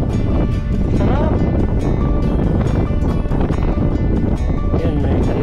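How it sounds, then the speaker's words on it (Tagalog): Strong wind buffets the microphone with a constant loud roar and rumble, with no pauses. "sobrang lakas ng hangin oh"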